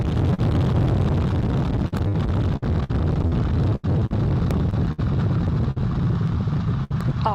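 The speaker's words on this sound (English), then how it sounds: "All 4 RS-25 engines on the core stage and 2 solid rocket boosters now propelling the vehicle" Artemis 1 liftoff, its four RS-25 core-stage engines and two solid rocket boosters firing, makes a loud, continuous low roar with rumbling, crackling texture that holds steady throughout, broken by a few brief dropouts.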